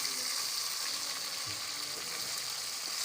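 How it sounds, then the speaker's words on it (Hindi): Tomato being stirred into onions that are frying and browning in a pan for tinda masala, giving a steady, close, loud sizzle with faint stirring scrapes throughout. "ये मैं अब इसमें टमाटर मिक्स कर रही हूँ"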